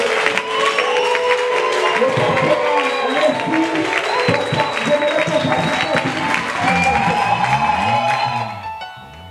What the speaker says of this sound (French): est-ce qu'on peut commencer déjà à acclamer?